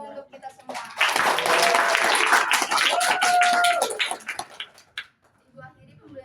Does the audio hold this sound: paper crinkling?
no